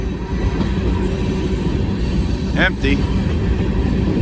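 Empty freight train cars, limestone slurry cars, roll past with steady rumbling and wheel clatter and a brief squeal partway through, while a voice speaks over the noise.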